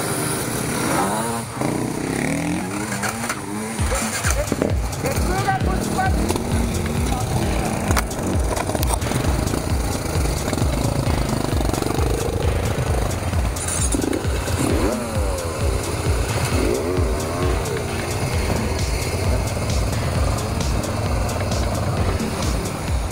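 Honda Transalp XL700V motorcycles ride through an enduro training session, loud engine roar and revving running steadily for about twenty seconds after a quieter start, with occasional voices underneath.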